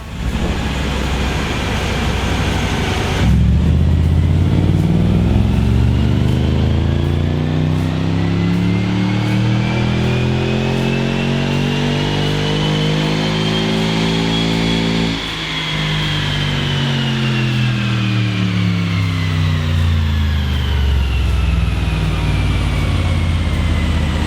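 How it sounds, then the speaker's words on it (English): Jaguar XJ engine strapped to a dyno, revving hard from about three seconds in: a loud, sustained run whose pitch climbs steadily, peaks near fifteen seconds, then eases back down, with no talk over it. "let's get it strapped down to our dyno so we can find out exactly what it's running now"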